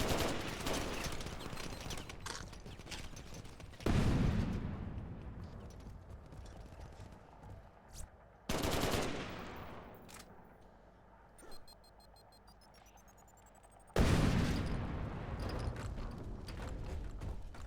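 Bursts of gunfire in the video game Crackdown, three loud broadband volleys that start abruptly and trail off, with scattered smaller shots and mechanical clatter between them.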